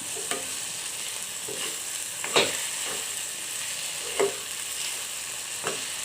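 Potato, onion and brinjal stir in hot oil with a steady sizzle, a spatula scraping the pan in several separate strokes spaced a second or two apart.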